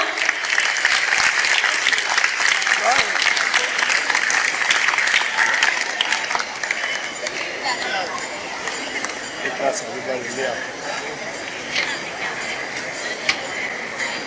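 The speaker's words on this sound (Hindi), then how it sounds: "बहुत जोरदार तालियां।" Loud, dense applause fills a hall at an education awards ceremony in Mumbai, sustained for several seconds before thinning into scattered claps and murmuring voices.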